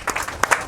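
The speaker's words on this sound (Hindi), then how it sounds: "इनके लिए तालियां बजाए बारी।" A church congregation gives a quick burst of applause, a short, fairly loud patter of clapping.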